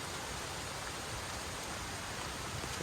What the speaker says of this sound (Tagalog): Oh, nag-ulan na oh.